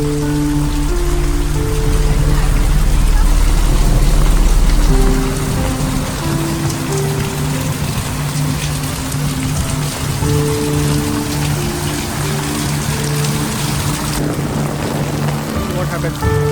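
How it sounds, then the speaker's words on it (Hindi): Heavy rain pours steadily in Kumortuli, Kolkata, a dense continuous hiss of drops on surfaces that stays loud throughout, with faint background tones and a brief voice near the end. "बारिश काफ़ी तेज़ होने लगी"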